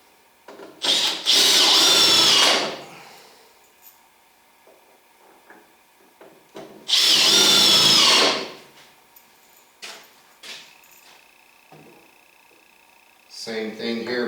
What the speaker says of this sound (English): This thing has no problem burying those screws